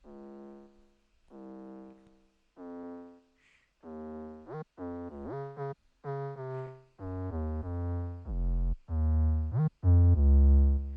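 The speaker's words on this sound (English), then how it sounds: "I've let the 808 slowly come in with the volume" An 808 bass in FL Studio plays a pitched melodic line of sliding notes, starting quiet and thin and swelling steadily louder and heavier as the deep low end comes back in.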